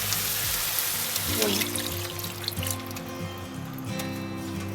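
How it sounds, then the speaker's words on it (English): Wine poured into minced meat for bolognese sizzles and hisses in the hot pan, a steady fizzing splash of liquid over low kitchen hum, without talk. "Once most of the water has evaporated from the meat, we're going to add our wine."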